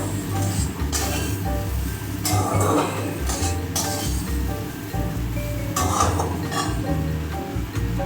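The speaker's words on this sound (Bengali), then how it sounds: "এখন আমি চিকেনগুলো ওর মধ্যে দিয়ে দিলাম, দিয়ে সামান্য নাড়াচাড়া করব।" Chicken pieces are stirred into a sauce in a pan for chilli chicken, with intermittent clinks and scrapes of a utensil against the pan and soft sizzling underneath, close up and with no talking.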